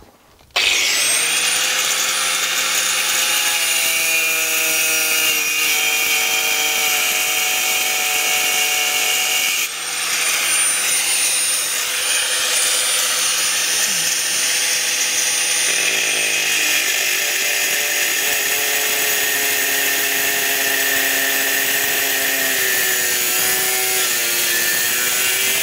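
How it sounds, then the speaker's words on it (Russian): An angle grinder cuts a Cedral Click siding panel in one long, loud, steady whine that shifts pitch slightly as the blade bites, running nearly unbroken for over twenty seconds with no talk. "все это мы режем болгаркой"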